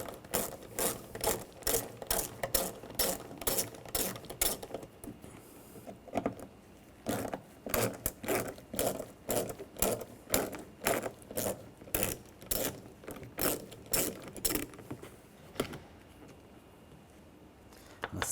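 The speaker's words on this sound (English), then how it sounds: "Use a 7mm socket, take this screw out." A ratchet turning a 7mm socket to remove screws during power window motor and regulator replacement on a 2013-2019 Ford Escape door, quick repeated clicking bursts in steady rhythm, close but fairly quiet, pausing briefly midway, with no talking.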